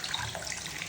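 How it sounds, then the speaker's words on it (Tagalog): Steady hiss of tap water running over a peace lily houseplant as it is rinsed clean, a continuous close splashing wash with no talking. "Paliguan na natin si peace lily."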